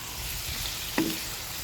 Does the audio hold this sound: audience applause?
no